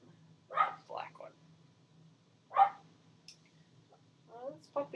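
Puppies yip and bark in short high bursts, a few scattered clusters at moderate distance, with a low steady hum running underneath.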